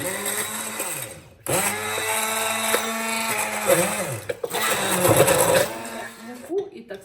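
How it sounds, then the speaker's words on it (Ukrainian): An electric blender whirs in sustained bursts mixing orange cupcake batter, pitch shifting as it mixes, briefly stopping between runs; a voice speaks faintly alongside. "Тепер блендером перебивати."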